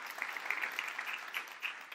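A church audience claps in praise, a soft, steady patter of many hands heard at some distance with no voices over it.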